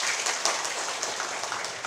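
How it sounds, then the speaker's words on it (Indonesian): A talk show studio audience gives a steady patter of applause, fairly quiet and even, holding at a constant level throughout. "Kita berikan dulu tepuk tangan"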